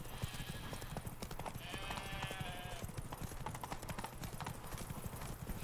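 Horse hooves clip-clop at a steady trot in The Witcher 3 video game, a continuous rhythmic beat under game ambience, with a brief whinny-like tone in the middle.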